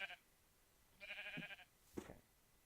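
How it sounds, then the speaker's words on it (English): Sheep in Minecraft bleat a few times, short nasal calls with a wavering tone, quiet and somewhat distant against low background noise. "Get away, sheep."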